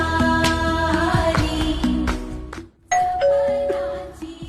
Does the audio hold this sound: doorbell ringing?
yes